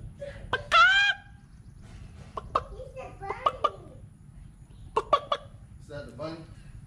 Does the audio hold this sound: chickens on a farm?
yes